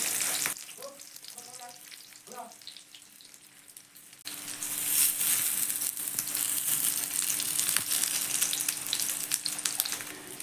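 Tiffin snacks fry in hot oil in a pan, a soft sizzle that builds to a louder, dense crackle after a few seconds, with brief clattering early on and no talking.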